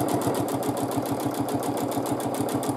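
A close, loud sewing machine quilts fabric in a continuous run, its rapid, even needle strokes forming a steady mechanical chatter for the whole stretch.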